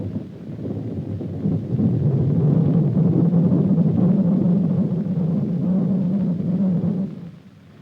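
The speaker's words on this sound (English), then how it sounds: "A running man sounds like this." Radar audio return from a running man on an experimental Army battlefield radar: a steady, loud low rumbling drone with a faint fluttering texture, holding for about seven seconds before dropping away, with no talking.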